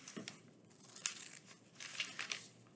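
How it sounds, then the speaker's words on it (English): Scissors cut carefully through paper to shape a number 50, faint crisp snips and papery crinkles in a quiet room, no talk. "So I'm going to very carefully cut out my number 50."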